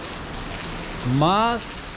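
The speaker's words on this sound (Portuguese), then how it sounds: "essa chuva aqui" Steady rain hisses down on a dirt route in the Estrada Real country between Tiradentes and Barbacena during a bicycle trip, a close, even wash of drops with a brief voice rising over it near the end.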